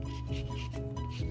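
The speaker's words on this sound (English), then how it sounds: "I'm getting some lemon zest and I'm shaving a lemon" Lemon being zested on a microplane in a home kitchen, a short run of soft, close rasping strokes repeated in a quick even rhythm.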